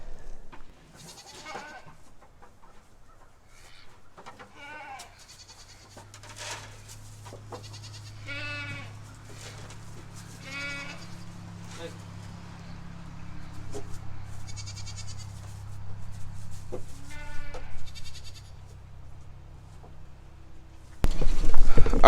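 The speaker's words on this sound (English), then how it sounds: "these are the baby goats" Baby goats bleating in a pen, a series of short, wavering, nasal cries from several kids scattered across the stretch, some close and some farther off, over a low steady hum, ending with a burst of louder noise.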